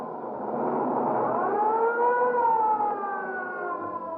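An ambulance siren wails in a single rising and falling sweep, steady and fairly loud with a slightly muffled, vintage tone, no talking over it.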